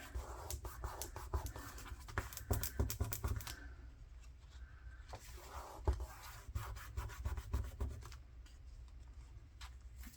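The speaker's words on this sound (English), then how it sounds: "So I'm just gonna kind of rub it in everywhere." Glue being rubbed into a journal page by hand, a quiet close scratchy rubbing in repeated short strokes with brief pauses.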